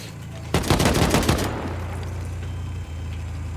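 Base turret gunfire in a survival video game: a rapid burst of automatic shots rattling off for about a second, loud and close, then cutting out to a low engine-like hum.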